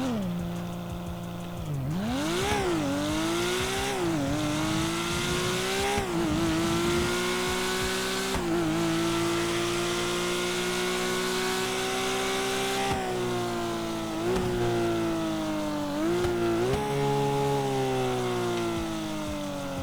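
Modded car engine in GTA 5 revving hard, climbing and dropping through repeated rev sweeps with short dips between gear changes, loud and close, with no talking.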